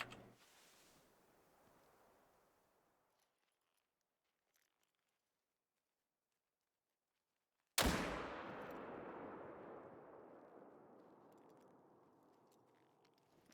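A single loud rifle shot in theHunter: Call of the Wild cracks sharply and rolls into a long, fading echo after a stretch of near silence, with faint ambient noise at the start.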